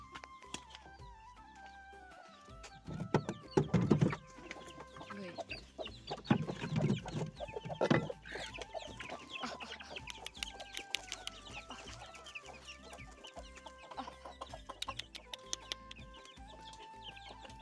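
Backyard chickens cluck and chatter around a feeding spot, a scattered mix of short clucks and calls from several birds, fairly near, with some quieter voices in the background.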